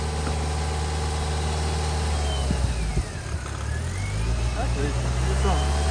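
Yugo car engine idling after a push start, a steady low mechanical rumble with slight revving, close by, while people talk over it.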